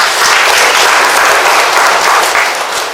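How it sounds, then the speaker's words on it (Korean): An audience at a Korean poet's book launch celebration breaks into loud, continuous applause, a thick uniform roar of many hands clapping that holds steady and tapers slightly at the end. "박수로 맞으십시오."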